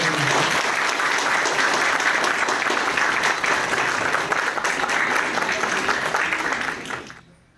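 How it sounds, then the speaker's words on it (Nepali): An audience gives a sustained round of applause to welcome a guest at a ceremony at a meditation centre, dense clapping from many hands held steady for several seconds before quickly dying away. "ताली बजाएर स्वागत गर्छु"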